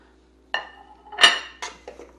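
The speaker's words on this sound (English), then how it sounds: "we're going to put all of our onions in" Sliced onions dropped into a metal baking pan for a cheese and onion pie, three or four close, sharp clattering clanks spaced over two seconds in an otherwise quiet kitchen.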